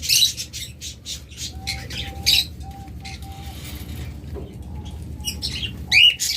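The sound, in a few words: caged pet birds chirping and flapping, rainbow pair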